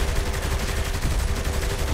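Dense, rapid gunfire in the video game Saints Row 3 clatters nonstop for two seconds, loud overlapping automatic bursts with heavy low-end booms and no pauses.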